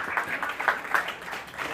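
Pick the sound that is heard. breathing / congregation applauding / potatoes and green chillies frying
congregation applauding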